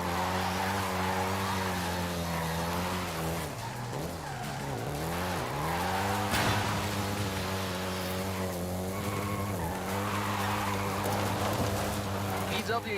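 Volkswagen Golf GTI driven in the racing game Forza Horizon 5, its engine drone steady and loud throughout with rising and falling revs and brief tyre skids.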